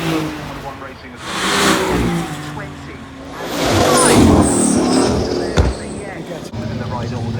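A 4-litre turbocharged plug-in hybrid car drives past at the Goodwood Festival of Speed, its engine note swelling, revving and fading as it passes, mixed with crowd noise and a commentator's voice.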